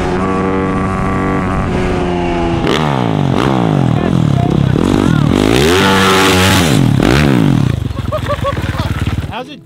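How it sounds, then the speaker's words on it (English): Shifter kart powered by a 450cc dirt bike engine revving hard and bouncing off the rev limiter, loud and close, with rapid rising and falling pitch sweeps as gears shift. "it's just like immediately on the rev limiter"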